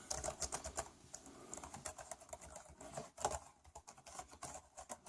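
Fingers type steadily on the keys of an RCA Galileo Pro 11.5-inch tablet keyboard, a close, continuous patter of soft plastic clicks with a few louder taps and no talking.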